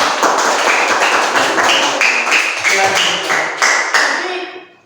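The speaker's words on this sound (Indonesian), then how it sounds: "tepuk tangan untuk kelompok 1" A classroom of students applauds a presenting group during a project-based learning lesson, a loud, steady patter of claps that carries for several seconds and then tapers off near the end.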